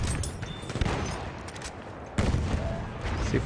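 Dense, continuous gunfire from a Battlefield 1 firefight, overlapping shots and bursts crackling without pause for several seconds, with a sharp louder volley near the end.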